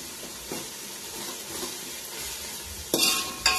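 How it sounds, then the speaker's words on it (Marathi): Tomatoes and salt sizzling in a pan for sambar while being stirred, a steady soft frying hiss with a few louder scraping stirs near the end, close by and with no voices. "टोमॅटो लगेच मीठ घातल्याबरोबर फुटायला चालू झालं"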